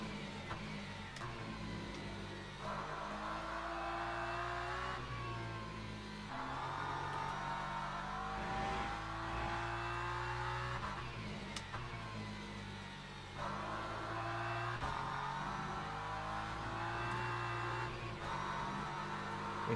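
Race car engine in the Le Mans Ultimate racing game, droning continuously with repeated rising revs and gear shifts, steady and fairly close without talk.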